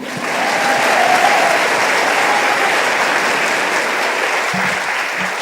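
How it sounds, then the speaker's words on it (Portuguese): Church congregation applauding a visiting woman pastor during a Portuguese-language service, a loud sustained roar of clapping that fills the room and tapers slightly near the end. "Pode aplaudir."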